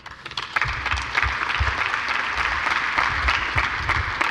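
A conference audience at a DATA Act Summit gives steady, dense applause, with many hands clapping together through the whole stretch.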